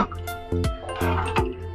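Half a glass of water trickles and drips into a metal pressure cooker of moong dal in a few short splashy bursts, close by and fairly quiet.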